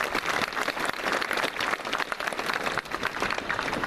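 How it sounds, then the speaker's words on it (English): An audience applauding student board representatives at a June 2016 high school graduation ceremony, a broad, even wash of many hands clapping at moderate distance, sustained with no talk on top. "so a round of applause for those folks as well."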